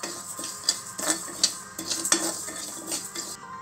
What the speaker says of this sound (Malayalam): ഇതൊരു ബ്രൗൺ ഷെയ്ഡ് ആകണം വരെ നമുക്കൊന്ന് ഇളക്കി കൊടുക്കാം